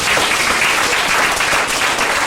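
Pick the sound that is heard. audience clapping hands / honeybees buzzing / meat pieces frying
audience clapping hands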